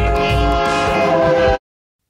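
Train rumbling past with its horn blaring, loud and close, a continuous roar of rail noise and horn that cuts off abruptly into silence.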